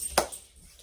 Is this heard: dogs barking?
yes